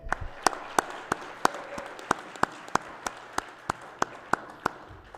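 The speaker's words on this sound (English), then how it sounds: "How about a nice round of applause for Mr. Bernard?" Applause from a small audience at a school board meeting, a sparse patter of hands with one person clapping loudly in a steady, evenly spaced beat throughout.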